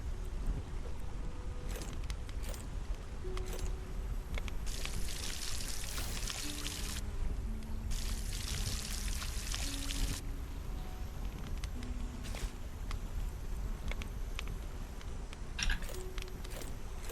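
Watering can pouring water in the Solarpunk video game, two bursts of splashing flow, each lasting a couple of seconds, over steady game ambience with small clicks.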